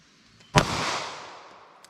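A single sharp 9mm pistol shot is fired into a block of clear ballistic gel set behind four layers of fabric and quarter-inch MDF. The crack is followed by a gradually fading echo, with a faint tick near the end.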